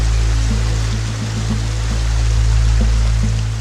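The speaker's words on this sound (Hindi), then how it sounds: "कभी आप किसी झरने के पास बैठिए और बस ध्वनि सुनिए।" A waterfall pours in a continuous, even rush of flowing water, loud and close, with a faint low hum beneath it and no talking.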